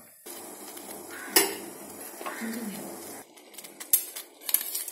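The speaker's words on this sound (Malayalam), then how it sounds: "ചൂടാക്കുമ്പോൾ തന്നെ നമുക്ക് ഉപ്പും പഞ്ചസാരയും വിനാഗിരിയും ചേർത്ത് നല്ലവണ്ണം ഇളക്കാം." Salt, sugar and vinegar being stirred into heating water in a pot for pickled pineapple, with quiet clinks and scrapes of a utensil against the metal pot and a soft rustle between, close and intermittent.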